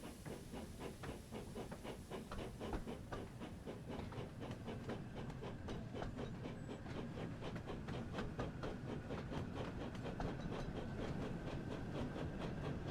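A steam locomotive in the Sodor railway game rolls steadily along the rails, with a continuous hiss of steam and a regular rhythmic clatter that is faint and even throughout, with no voices.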